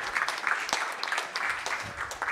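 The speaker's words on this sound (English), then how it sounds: "Please, a big round of applause for our moderators." A brief burst of audience applause for event moderators, scattered hands clapping with some louder individual claps, short and moderately close.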